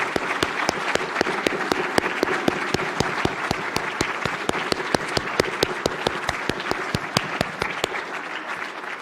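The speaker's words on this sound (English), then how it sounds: "Please join me in a collective round of applause" Audience at a new member induction ceremony applauds the class of 2020, a steady, dense round of clapping with sharp individual claps standing out, sustained for several seconds before fading out near the end.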